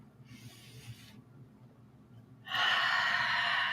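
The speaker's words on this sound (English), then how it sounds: "I think we should all just take a deep breath in." A person draws a deep breath in, a soft airy inhale followed by a longer, louder breathy rush close to the microphone.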